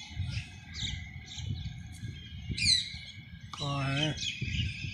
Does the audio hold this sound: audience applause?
no